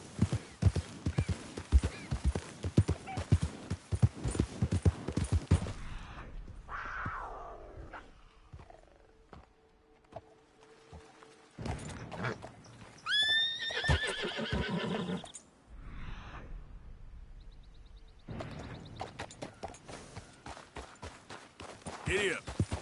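A horse in the video game Red Dead Redemption 2 gallops with rapid clip-clop hooves, then whinnies loudly in the middle, with other rustling game sounds and a quiet stretch between bursts of hoofbeats.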